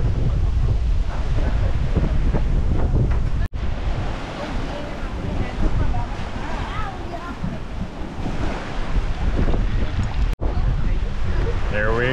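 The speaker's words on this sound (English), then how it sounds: "And it's very windy." Strong wind roars across the microphone while sea waves off Guimaras, Philippines, wash and surge steadily, loud and continuous, with a couple of brief dropouts.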